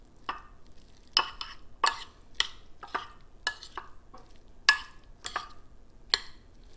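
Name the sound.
mixing the shrimp filling for stuffed mushrooms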